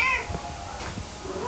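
A pet cat meows indoors, a short wavering call near the start, followed by quieter movement and a sharp knock at the very end.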